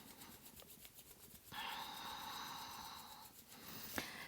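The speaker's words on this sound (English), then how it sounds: "And then rub your palms once again." Palms rub together briskly during a yoga centering practice, giving a steady soft broadband hiss that lasts about two seconds over quiet room tone, with no talking.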